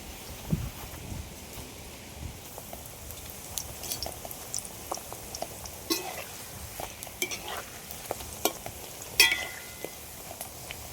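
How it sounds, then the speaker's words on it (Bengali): Papri frying in hot white oil in a wok, a soft steady sizzle with scattered crackles and light clinks of a utensil stirring, close and moderately quiet with no voices. "এবার আমি পাপড়িগুলো সব ভেজে নেবো"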